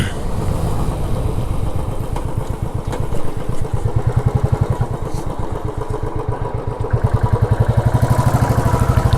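A Royal Enfield Classic 350 motorcycle thumps along on a cold early-morning ride, its single-cylinder engine pulsing in a loud, steady rapid beat with some wind rumble and no voices.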